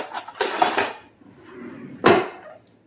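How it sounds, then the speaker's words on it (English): Metal utensils rattle and clink as a spatula is pulled from a container while baking a cake, with a busy jangle of cutlery early on and another sharp clatter near the end. "let me grab a spatula."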